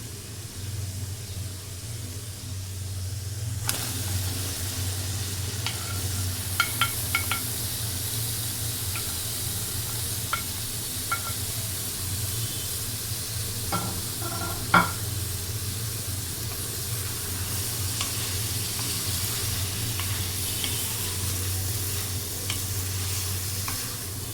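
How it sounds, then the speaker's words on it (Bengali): Bottle gourd stir-fries in spiced oil with a loud, continuous sizzle. Scattered spoon scrapes and taps against the pan sound as the gourd is tossed, and no one speaks. "লাউটা একটু নাড়াচাড়া করে কিছুক্ষণের জন্য কষিয়ে নিচ্ছি।"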